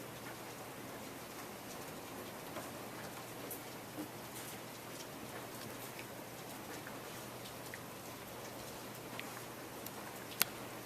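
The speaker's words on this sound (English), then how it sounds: "She's just watching the rain." Steady rain falls outdoors by a small awning, a constant close hiss of patter with the odd sharper drip, and no talking.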